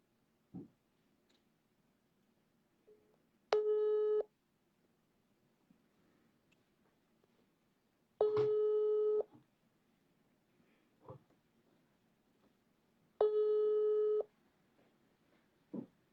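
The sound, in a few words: telephone busy signal while calling a guest back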